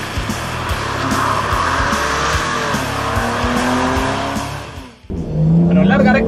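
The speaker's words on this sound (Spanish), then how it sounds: "larga recta para exprimir el motor" A BMW M2 Competition's 411 hp inline six-cylinder engine accelerates hard on a racing circuit, climbing loudly through the revs with tire squeal, dipping at a quick gear change, then pulling again, with talk over it.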